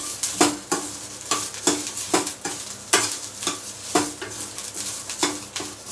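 Cumin seeds frying in a pan for a fenugreek rice dish, with a steady sizzle broken by regular, close spatula scrapes and stirs about every half second.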